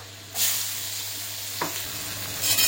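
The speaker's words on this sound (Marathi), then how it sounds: "आता आपण या कांद्याला मस्तपैकी मिक्स करूयात" Onions stirred in a hot pan while dosa is being made, with turmeric and chili added: a steady sizzle jumps up near the start, broken by a few scraping stirs and one louder clack, close by and with no talk.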